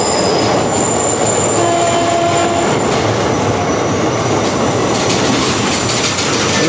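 The Asansol–Sealdah Intercity Express rolls into platform 3 at a station with a loud, continuous rumble and clatter of wheels, a faint high squeal riding on top, and no talking.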